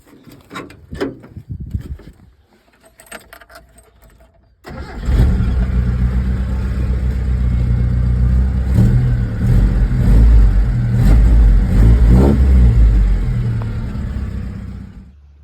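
A Mitsubishi Pajero with a 4G54 engine and Weber carburettor cranks and starts after a few seconds of quiet handling noises, then runs loud and close, revving up and down steadily for about ten seconds before easing off.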